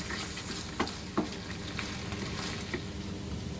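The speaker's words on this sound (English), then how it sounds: "So I'm just going to go ahead and add the onions. And we'll just cook those for about 3 or 4 minutes." Onions sautéing in olive oil in a pot, a constant close sizzle broken by a few light clicks of a spoon stirring.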